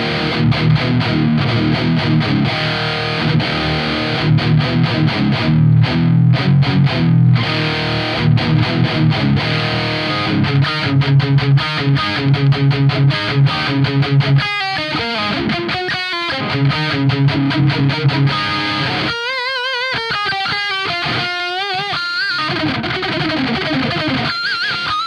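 Heavily distorted electric guitar through a 1985 Marshall 800 amp with an SD1 overdrive in front, playing loud, aggressive riffs with chugging palm-muted bursts, sustained bends and squealing lead runs, heard alone.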